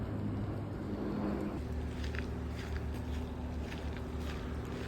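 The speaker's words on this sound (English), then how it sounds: "I can hear boats below." Boats on the ocean below Stanley Park heard from a forest trail above: a distant low engine rumble blended with steady wind and outdoor ambience, faint and continuous, with no talking.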